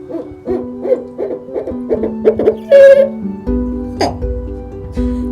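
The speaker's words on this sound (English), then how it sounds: "you'll hear that traditional call. It's like, who cooks for you? Who cooks for you all?" An imprinted barred owl with a slightly wonky call hoots in a rhythmic series that builds to a loud, drawn-out wail, then gives a few more hoots. Close and clear.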